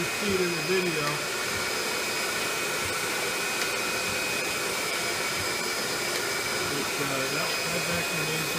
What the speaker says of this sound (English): I'm going to hook up a small vacuum.